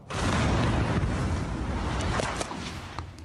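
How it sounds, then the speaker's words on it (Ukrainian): Explosions at an oil depot roar as one continuous, heavy, rumbling blast, loud and broad, with a few sharper cracks and pops within it and no voices. "Такі взриви Оце вибухи. Попали таки в нафтобазу."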